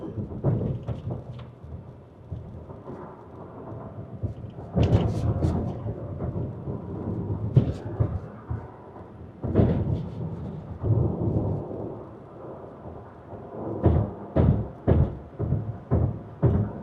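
An Omoda C5 EV rolling across a concrete bridge produces a rumbling road roar, with repeated thumps from the tires striking road joints, some spaced and some in quick succession, loud and with no talk.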